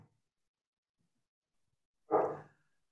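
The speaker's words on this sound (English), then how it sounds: "dog stop barking." A single short, muffled dog bark sounds once after a near-silent pause, brief and fairly faint in a quiet room.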